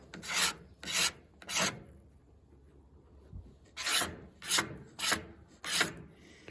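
Razor blade scraping the plastic front fender of a 1979 Yamaha MX100 during refinishing: seven close, rasping strokes in two bursts of three and four, separated by a quiet pause.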